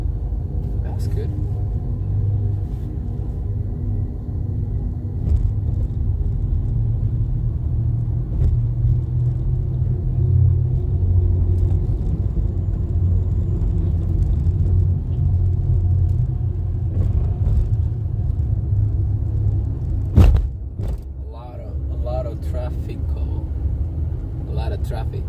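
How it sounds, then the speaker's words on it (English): Steady low road-traffic rumble from passing cars and heavier vehicles, a continuous close drone that swells and fades slightly, with a brief sharper bump near the end and faint voices underneath. "A lot of traffic here."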